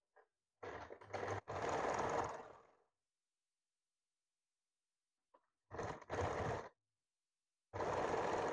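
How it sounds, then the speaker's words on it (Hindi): A sewing machine stitches blouse fabric and lining together in three separate runs, each a whirring burst lasting one to two seconds with short pauses and faint clicks between them. "टैक्स लगाने से पहले इसमें सिलाई देना है। ये सिलाई देने से ब्लाउज का फैब्रिक और अस्तर दोनों बराबर रहता है।"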